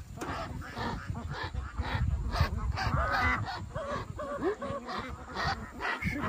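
Free-range ducks raised in the hills squawk and honk loudly and repeatedly while being caught, a dense run of overlapping calls close by.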